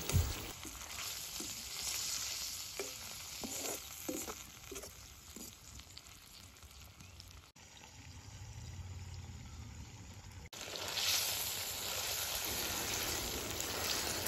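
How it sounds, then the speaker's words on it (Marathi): Prawns fry in hot oil in a pan, giving a close, crackling sizzle broken by a run of stirring clinks early on. The frying dips quieter in the middle, then rises to a louder, denser hiss near the end. "कोलंबी फ्राय करत असताना सर्व बाजूने चांगलं परतून घ्यायचं आहे"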